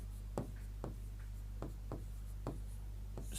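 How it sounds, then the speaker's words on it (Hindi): Pen strokes scratch across paper as words are written by hand, coming in short, regular strokes about every half second. The scratching is close and quiet over a steady low electrical hum, with no talk. "शब्द लिख रहा हूं मैं"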